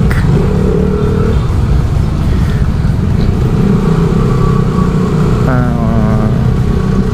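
Roadside traffic in Marilao, Bulacan, with cars and motorcycles passing in a steady, loud engine drone, plus a brief rising horn-like tone near the end.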